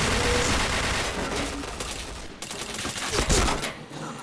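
Rapid bursts of automatic gunfire in a shooting video game, dense overlapping shots with a louder volley near the end, alongside game sounds.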